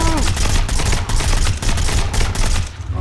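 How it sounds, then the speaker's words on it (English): A rapid burst of sharp video game gunshots, loud and close, crackling repeatedly in quick succession with no voices over them. "Nobody could not have heard those gunshots."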